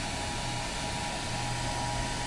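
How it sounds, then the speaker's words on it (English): A hair dryer runs on its low setting, a steady close airy whoosh with a faint motor hum, continuous and unchanging with no voices. "Hair dryer. On low, just let it warm up."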